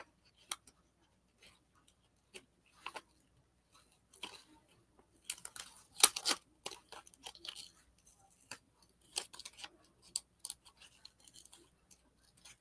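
Scissors snip through sticker book paper with sticky glue backing, sparse crisp cuts and crinkles spaced irregularly, close and quiet with long silent gaps between them.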